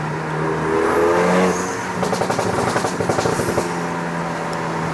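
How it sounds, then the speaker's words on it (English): A turbocharged four-cylinder Renault Megane RS engine revs up, then settles into a burbling idle with rapid popping pulses, close and loud, without any talking. "That is the best sound I've heard out of a 4-cylinder car."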